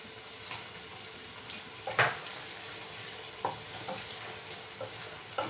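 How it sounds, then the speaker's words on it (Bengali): Small puti fish frying in a pan for a sour fish dish, a continuous close sizzle punctuated by scattered spatula scrapes and clinks against the pan, no speech. "কিছু সময় মাছটাও কষে যাক"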